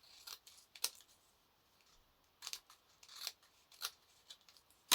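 Scissors trimming the overhanging paper pages of a small handmade notebook, giving several short, crisp snips in quick bursts, close and fairly quiet.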